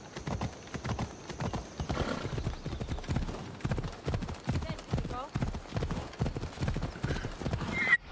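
Horse hooves clip-clopping at a steady trot in the Assassin's Creed Odyssey video game, rhythmic and continuous under a player talking, with a brief whinny.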